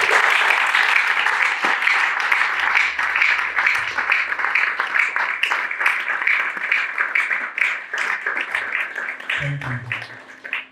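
Sustained audience applause at a motivational MINDTALK seminar, dense continuous clapping from a large crowd, steady and loud for the whole stretch, with a brief low voice near the end.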